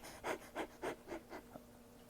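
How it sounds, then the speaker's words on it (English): A person demonstrates shallow breathing with six quick, evenly spaced breathy puffs, faint and close, fading toward the end. "And if you're shallow breathing,"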